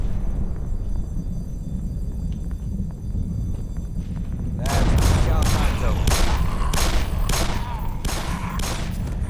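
Glock 18 pistols fire in bursts from police characters in the game Black Mesa, a loud rapid volley of repeated close gunshots starting midway, preceded by low ambient rumble.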